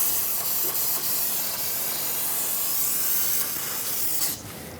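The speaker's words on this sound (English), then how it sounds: "Spray this down with brake parts cleaner so we can make sure everything is clean" Brake parts cleaner sprayed from an aerosol can onto the rear brake hose area of a 2012-2018 Nissan Altima, a loud steady hiss held close for about four seconds before easing off.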